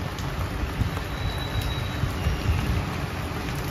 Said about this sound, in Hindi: बारिश हो रही है, बहुत बुरी हालत हो रही है बारिश से ना